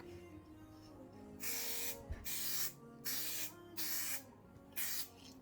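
Spray bursts laying a second coat onto a car headlight during restoration: five separate hissing blasts, each roughly half a second to a second long, close and loud with short pauses between, over a faint steady background hum.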